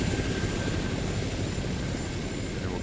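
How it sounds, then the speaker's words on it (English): A video-game helicopter roars in at close range with a loud, steady rotor and engine rumble that fills the whole stretch without letting up, with no one talking over it. "As the helicopter comes in extremely loud."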